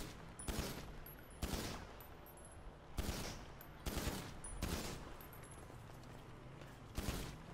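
Repeated bursts of video game gunfire with bullets passing through walls, several separate volleys spaced a second or so apart, each a sharp broadband crackle fading quickly, fairly loud with no talk.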